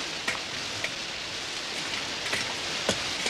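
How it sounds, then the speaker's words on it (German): Sudden heavy downpour of rain, a steady dense hiss with a few sharper drop hits, fairly quiet and continuous with no talking. "Plötzlich so einen ein Platzregen."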